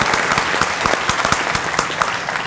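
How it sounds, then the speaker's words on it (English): Steady applause from a crowd at a community breakfast event, dense clapping throughout at a moderately loud level with no voices. "Give these folks a big round of applause."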